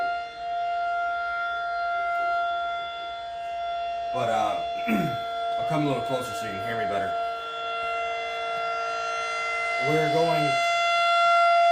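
A civil defense siren wails steadily in the distance during a monthly test, a sustained tone lasting throughout while someone speaks intermittently over it.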